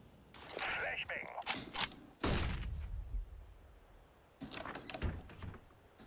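A flashbang grenade in Counter-Strike: Global Offensive pops with a sharp burst and ringing tail among game clicks and mechanical noises, while a player talks over it.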